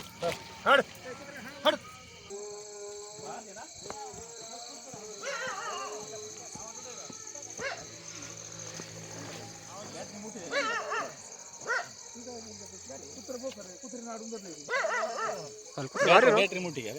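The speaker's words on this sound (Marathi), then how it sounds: "कुत्र्याला पळवा बरं" A dog barks in short bursts at a middling distance while confronting a Russell's viper, mixed with people talking and outdoor commotion throughout.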